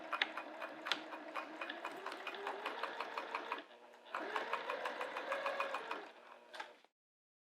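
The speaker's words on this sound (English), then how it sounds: "Now I'm going to top stitch that down all the way across." Close, steady chattering of a sewing machine top stitching across a zipper pouch with a 3.5 mm stitch, two long runs separated by a short pause, then silence.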